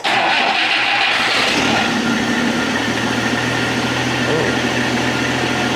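A 1962 AMC Rambler engine cranks and catches, then settles into a steady, fairly high idle that runs close and loud; a voice briefly exclaims over it.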